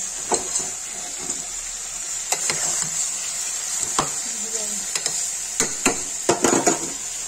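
Steady sizzling of potatoes and soybeans frying with repeated scraping clicks of a spoon stirring against a metal pressure cooker, near and fairly loud.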